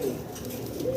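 A fancy pigeon gives a soft, low cooing call, faint and brief, with a slight hum in the background.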